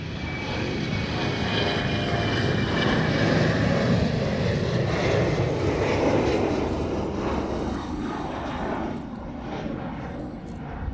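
A large aircraft engine roars continuously at Honolulu airport, loud and broad, swelling and then slowly easing as the plane moves along near the reef runway.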